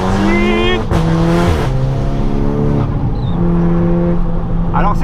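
A sports car engine revs hard and accelerates, loud and close, with rising and falling pitch sweeps through gear changes, under excited talking.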